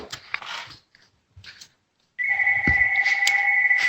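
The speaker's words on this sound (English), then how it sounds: "did you hear ringing?" A telephone rings with a steady, sustained electronic tone that starts abruptly partway through and continues to the end, preceded by faint chewing-like sounds and quiet pauses.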